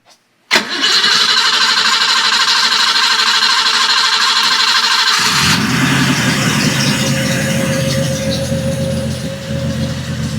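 A 1980 BMW 528i E12 cranks and fires into a loud, steady running engine that settles toward an idle, with no talking over it.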